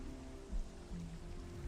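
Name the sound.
rain in Minecraft Skyblock, from a video game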